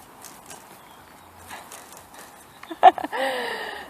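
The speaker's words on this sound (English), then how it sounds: "when this sheep wants more food, it starts tapping on the fence to tell me that it wants more food" A sheep taps its hooves against a fence when it wants more food, giving soft irregular clip-clop knocks over quiet outdoor ambience, ending with a louder clatter and a short bleat-like burst.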